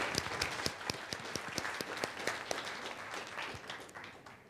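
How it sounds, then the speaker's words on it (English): Audience applause at a birth summit panel discussion, a room of hands clapping steadily and fairly softly, heard somewhat distant and without voices over it. "Can you give him a round of applause?"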